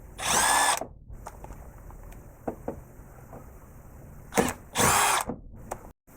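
A power tool whirs in two loud bursts, unscrewing T30 plastic Torx screws from an underbody panel on a BMW M2, M3 or M4, with small clicks and handling noise between the runs.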